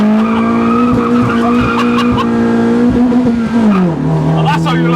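A cammed Citroen C2 rally car launches hard, its engine holding a loud steady high-revving drone with a sustained tyre squeal, pitch dipping as it shifts, with voices talking inside.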